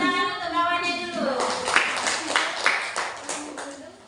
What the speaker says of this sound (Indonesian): Tepuk tangan untuk kawannya dulu.